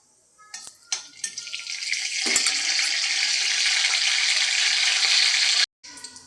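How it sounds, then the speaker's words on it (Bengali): Black cumin seeds and a dried red chilli sizzle and crackle in hot oil for tempering, a close, steady frying hiss that swells after a brief clatter, then cuts off near the end. "ফোড়নের জন্য দিয়ে দিচ্ছি কালো জিরে, শুকনো লঙ্কা"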